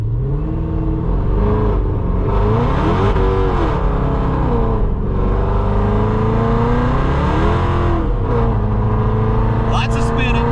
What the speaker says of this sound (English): Lots of spinning, lots of spinning. Woo, lots of spinning, folks.